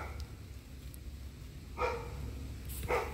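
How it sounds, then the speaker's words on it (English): A raccoon growls at close range outdoors while eating pecans, giving two short rough bursts about a second apart over steady low background noise. "That raccoon right there is growling at me."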